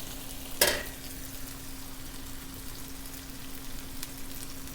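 Asafetida drops into a South Indian mixed vegetable stir fry, bringing a brief sharp crackle near the start before an even, quiet sizzle of frying vegetables continues, with no talking.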